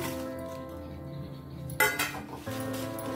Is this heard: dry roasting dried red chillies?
yes